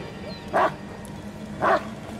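A dog in the Blair Witch horror game barks twice, about a second apart, each short bark standing out over a low steady background hum.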